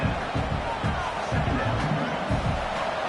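A packed football stadium crowd roars loudly in a continuous, dense wash of noise, with broadcast commentary talking over it.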